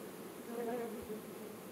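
Honeybees buzz continuously nearby during a virgin queen introduction, a steady droning hum that swells slightly in the middle.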